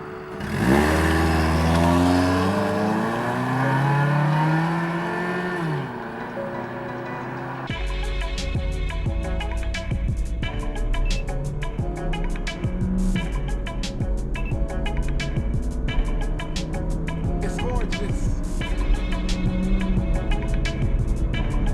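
Honda Stepwgn RF-1 minivan accelerating hard from standstill to 100 km/h on a winter road, engine note rising through gears with a clear shift pause, steady loud drone inside the cabin with no talk.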